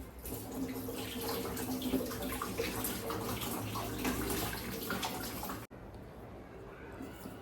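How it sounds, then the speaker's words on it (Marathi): A bottle gourd being rinsed under a running kitchen tap, a steady close rush of water that cuts off near the end, leaving a quieter room. "भोपळा स्वच्छ धुवून घेऊया पहिले"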